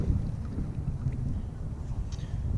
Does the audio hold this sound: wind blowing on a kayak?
yes